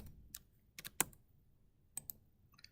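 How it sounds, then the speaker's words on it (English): A handful of scattered computer keyboard keystrokes, sharp quiet clicks in small irregular bursts separated by silence, close to the mic. "You can also double click inside. And you can type in."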